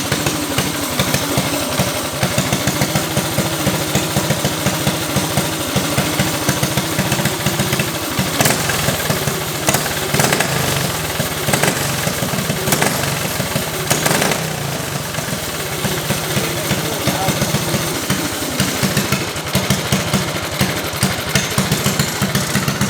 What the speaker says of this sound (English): We're gonna see if it idles now.